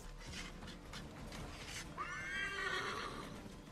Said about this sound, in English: No, they've shot the horse.